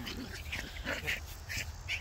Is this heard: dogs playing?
yes